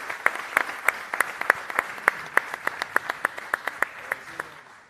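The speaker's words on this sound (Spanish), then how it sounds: "un fuerte aplauso aquí para este panel" A small audience claps for a climate policy panel, sparse and evenly spaced individual claps ringing out steadily for several seconds in a quiet room.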